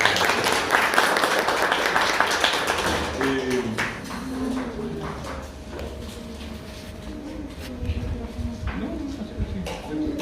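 Applause from an audience at a departmental education congress in Santa Rita, strong clapping at the start that thins and fades, with scattered claps, background murmur and a few bird-like coos underneath.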